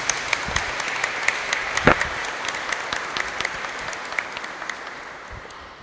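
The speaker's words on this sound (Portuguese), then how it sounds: "A gente dá uma salva de palmas ao Padre Reginaldo" Church congregation applauds together, a steady wash of clapping with a few sharper individual claps standing out, slowly easing toward the end.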